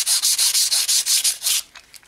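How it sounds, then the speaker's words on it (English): Sandpaper rubbing back and forth across the bottom of a wood lathe tailstock in quick, even strokes, about nine close, loud rasps followed by a few lighter scuffs. "Next, you would take your tailstock and you would sand the bottom of that as well."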